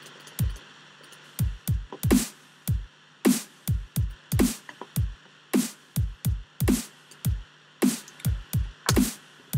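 Punchy electronic kick drums repeat in a steady rhythmic pattern, with layered thumps and bright clicky attacks over a faint background hiss.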